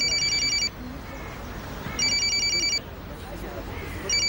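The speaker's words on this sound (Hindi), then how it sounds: "एमिर का फोन है" A mobile phone rings in repeated bursts of an electronic ringtone, three rounds with short gaps, moderately loud over a low murmur of background noise in an indoor drama scene.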